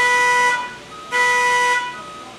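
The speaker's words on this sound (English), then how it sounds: "the gantry will honk at you 3 times, and reset itself to the home position" Mark VII Advantage gantry honking while it resets from an e-stop position, two loud, close, sustained horn blasts with a short gap between them.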